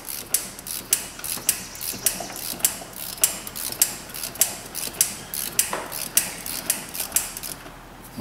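A ratchet on a broken spark plug removal tool in a Ford 5.4 engine clicks in a steady series of sharp, close ticks, each stroke about half a second apart, with a brief pause near the end.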